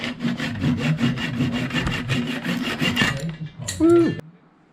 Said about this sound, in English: now it's time to cut them flush to the surface with the flush cutting saw.